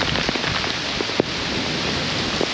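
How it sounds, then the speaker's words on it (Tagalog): Heavy rain pours down steadily beside a flooded bridge and road, forming a loud, constant hiss with a few sharper drop impacts and no voices. "umuulan po, lakas po na ulan."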